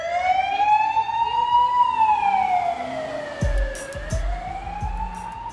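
An ambulance siren wails steadily, rising and falling in pitch as it arrives at Royal Hobart Hospital in Tasmania, loud and close, with low thumps and traffic noise underneath in the second half.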